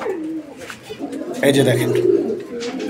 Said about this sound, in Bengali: একদম বিশাল বড় সাইজের কবুতর